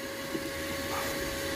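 A steady, broadband vacuum cleaner roar with a constant whine running through, continuous and close, sucking debris out of a pipe during a Ford Mondeo Duratec 2.0 HE engine rebuild.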